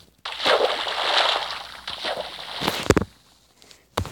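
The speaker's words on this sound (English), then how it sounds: "It was probably just the water." Splashes of water in the video game Minecraft, a sloshing, churning burst lasting a few seconds with a few sharper splashes near the end, alone without talk.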